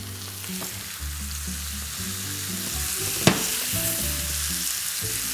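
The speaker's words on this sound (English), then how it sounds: "We're just gonna put it cut side down in the skillet." A cabbage quarter sears cut side down in a skillet over medium heat, producing a continuous close sizzle over a low tonal hum, with no voices.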